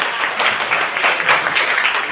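Classroom of students clapping together during an Islamic religious education lesson, a short, loud, close burst of many hands in rough unison.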